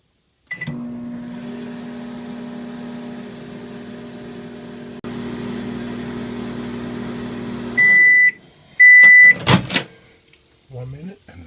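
A microwave oven hums steadily while heating Banquet brown-and-serve sausages, the drone shifting once midway, then stopping with a run of sharp electronic beeps and a door clatter, followed by brief talk.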